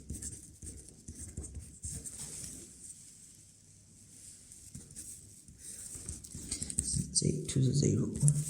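Pen scratching across paper while math homework is written out by hand, soft irregular strokes close up, with a voice speaking over parts of it.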